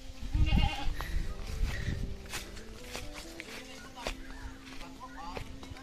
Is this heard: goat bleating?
yes